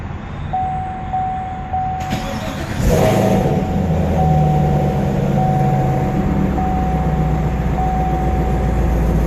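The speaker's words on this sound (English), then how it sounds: "Put your foot on the brake and the clutch," A 2016 Chevy Camaro with a six-speed manual cranks and fires up loudly after a brief starter whir, then settles into a steady, deep idle that carries on close by.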